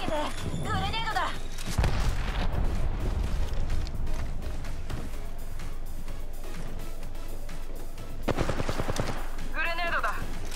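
Gunfire in the video game Apex Legends: rapid bursts and single shots crackle throughout, loud and close, with a heavy blast near the start and game voice lines over the shooting.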